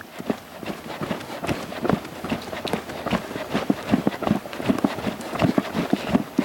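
Horse trotting at liberty in an arena, its hoofbeats landing in a steady rhythmic clip-clop, fairly close and continuous, with no talking over them.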